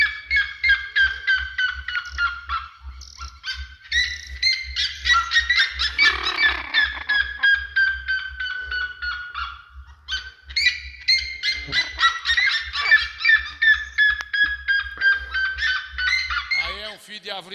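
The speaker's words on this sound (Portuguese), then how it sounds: "Sariema." Seriemas on a farm, strange wild birds calling in long, loud, repeating trains of sharp yelping notes that run almost without pause, with a steady low hum underneath.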